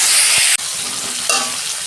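Tomato dropped into frying mung dal mixture with ginger and asafoetida, a loud close sizzle that cuts briefly, then resumes with a fresh burst as it hits the hot pan.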